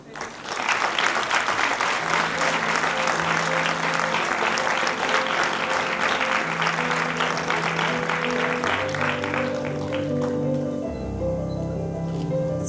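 Sustained applause from a large crowd at a high school centenary ceremony fills the room for over ten seconds, then fades as music with steady tones rises at the end.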